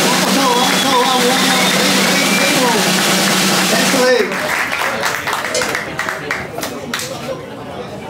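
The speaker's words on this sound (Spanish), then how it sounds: "Un fuerte aplauso para el club acá, un fuerte aplauso." Applause and cheering break out for the club at a CPC Destrampe 2023 awards ceremony, a loud steady wash of clapping with crowd chatter and a voice calling out over it before it thins into talk.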